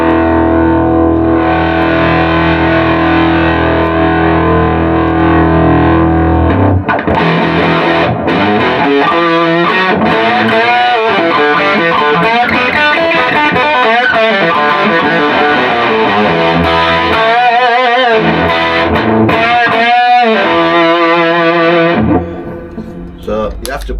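A guitar plays through a 1968 Marshall Plexi valve amp with a thick, saturated distorted tone: sustained chords ring loud and continuous, then shift into busier riffing before a quick fade at the end.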